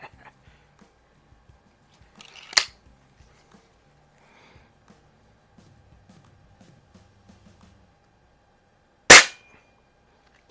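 Two sharp, isolated shots from a Daisy 131 air rifle firing at a can, several seconds apart, each a crisp crack against an otherwise quiet background.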